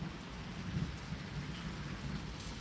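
Light rain during a thunderstorm in Pittsburg, Kansas: a steady, soft, broadband hiss of falling rain with faint low rumble underneath, even and continuous throughout with no voices.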